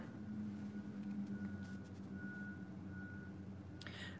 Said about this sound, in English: That stupid truck or the stupid whatever that thing is.